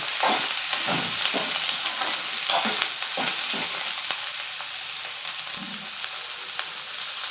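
Sliced bitter gourd and onions sizzle steadily in a hot pan while being stirred, with a continuous frying hiss broken by repeated scraping strokes of a spoon against the pan.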